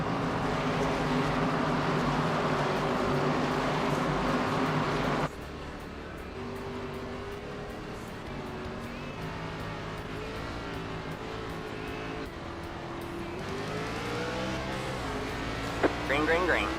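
Simulated race cars in an ARCA sim racing game at a virtual Lakeland, Florida speedway, engines droning steadily in a loud pack that drops to a single onboard car's rising and falling engine tone, under continuous commentary.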